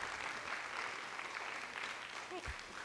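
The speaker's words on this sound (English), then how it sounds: "Please join me in giving these students and their teachers a huge round of applause." Applause from an audience at a school board meeting for FFA students and their teachers, a moderately faint, steady wash of clapping that carries through with a few voices murmuring underneath.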